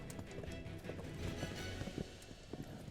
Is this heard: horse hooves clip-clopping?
yes